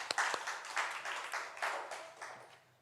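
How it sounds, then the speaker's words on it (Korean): A church congregation applauds during a Sunday worship service, a quiet, brief burst of scattered hand claps that thins out and fades toward the end. "우리 하나님께 영광의 박수 올려드리겠습니다"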